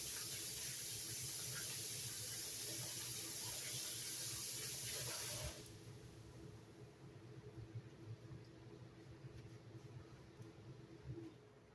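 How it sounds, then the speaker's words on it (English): A tap runs with a steady hissing rush of water for about five seconds, then shuts off, leaving quiet room noise with faint movements. "let me wash my hands"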